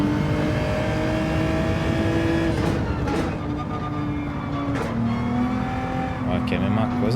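Race car engine in Gran Turismo 7 revving under gradual, controlled throttle, rising and dipping in pitch with shifts, loud and continuous throughout.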